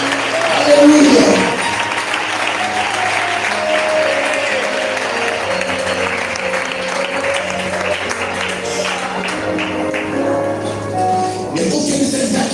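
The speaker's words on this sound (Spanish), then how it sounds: "Para ese fuerte aplauso para el Rey de Gloria." A church congregation gives strong, sustained applause, a thick mass of clapping lasting over twelve seconds over a low background of music and voices.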